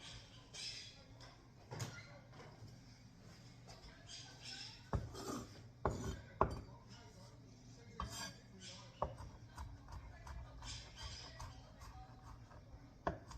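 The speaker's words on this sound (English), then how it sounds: "what I'm doing here is I'm just kind of going over, trying to get my garlic really diced up nice" A knife dicing garlic on a cutting board for a potato dumpling dish, faint scattered taps and sharper knocks in irregular bursts, quiet and close with no talk.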